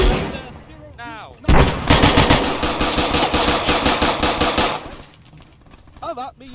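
Loud bursts of gunfire and grenade explosions crash through a battlefield scene in the video game Resurgent Honour, with a sustained volley of rapid shots and blasts in the middle, framed by quieter stretches with brief voices at the start and end.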